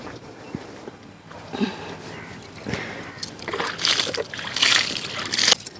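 Water is poured from a vessel onto potted crossandra plants in a home garden, giving uneven splashing and sloshing that swells and fades in bursts, close by and moderately loud.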